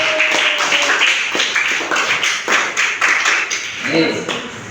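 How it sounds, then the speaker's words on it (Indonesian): An audience of students in a classroom applauds a presenting group, with steady close clapping mixed with talk and chatter throughout. "beri tepuk tangan kelompok 1"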